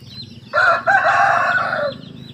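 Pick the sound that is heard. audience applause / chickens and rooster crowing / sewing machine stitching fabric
chickens and rooster crowing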